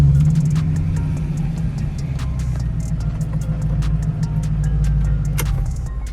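A C5 Corvette drives along with a steady low engine drone and road rumble heard from inside the cabin, joined by scattered light ticks and rattles.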